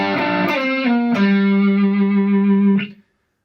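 Electric guitar picks out part of a song's intro lick with a distorted, effects-laden tone: a few sustained bent notes ring close and loud, then cut off abruptly, no voices.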